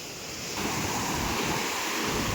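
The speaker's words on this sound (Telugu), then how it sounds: "నిన్న కురిసిన భారీ వర్షానికి వాగు అనేది ఆలూరు గ్రామం వాగు పూర్తిగా నిండి వరదల్లా పారుతుంది" A village stream at Aluru, swollen after heavy rain, rushes along in flood with a loud, steady roar of churning water that thickens after the first moment, with no voices.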